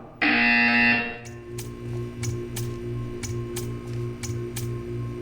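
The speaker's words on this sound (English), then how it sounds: "You will hear a buzzer." A loud, sustained electronic buzzer in Portal 2 blares for about a second, followed by a series of sharp ticking clicks over a low pulsing hum.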